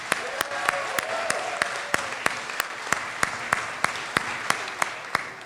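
Audience applause at a California 13th Congressional District debate, a steady wash of clapping from a crowd with a few sharp, evenly spaced claps standing out close by, held throughout at moderate volume.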